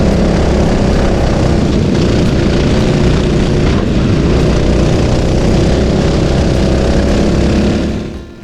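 A pack of racing karts roars off the start of a heat at the Llandow circuit, a loud, dense wall of buzzing engines held steady for several seconds before fading sharply at the end.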